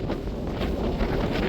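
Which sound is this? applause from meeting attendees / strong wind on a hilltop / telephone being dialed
strong wind on a hilltop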